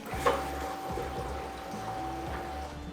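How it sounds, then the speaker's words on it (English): A fuel transfer pump runs on a CAT diesel-swapped Ford F350, moving diesel from the rear tank into the front tank; a steady low mechanical hum sits under the close, continuous sound of liquid pouring and splashing inside the tank. "Hear that pump working. No leaks. And I can hear it splashing down in here."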